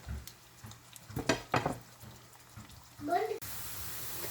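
Onions fry in a pan for a chicken shorba salaan curry, with scattered stirring scrapes and a couple of louder bursts, followed by a steady close sizzle at the end.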